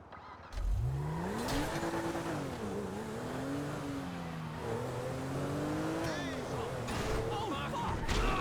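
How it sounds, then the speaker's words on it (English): A black Serrano SUV driven in GTA V, its engine droning steadily and rising and falling in pitch as it accelerates and eases off, continuous and up close. "Take the black car, called the Serrano, as it is the best vehicle available"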